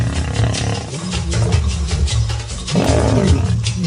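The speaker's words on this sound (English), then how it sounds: "It felt like the car was vibrating from this roar." A wild lion gives deep, rumbling roars, loud and continuous over several seconds, low and resonant with a rough growling texture, apparently recorded from nearby.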